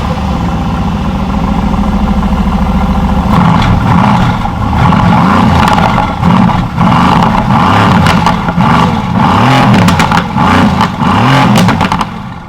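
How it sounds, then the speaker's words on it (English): A 2019 Mercedes-AMG GT S engine fires up loudly after a few seconds of quieter sound, then idles and revs in repeated rising and falling surges as the car pulls away, close and prominent with no talking. "let's turn this car on, let's see what it sounds like"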